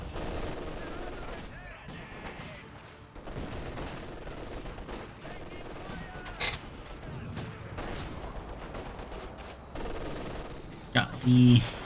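MG42 machine gun fire in Company of Heroes 2, a WWII strategy game, rattling in bursts amid layered battle noise with scattered gunshots and explosions, beneath continuous match commentary.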